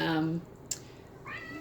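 A cat meows twice, a drawn-out call at the start and a shorter one near the end, with a faint click between them in a quiet room.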